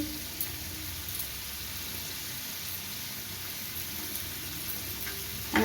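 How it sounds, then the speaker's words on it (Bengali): Steady, soft sizzling of grated ginger frying in a hot pan, a continuous crackling hiss with no talking. "প্রথমে আমি আদা কোড়াটা দিয়ে দিচ্ছি"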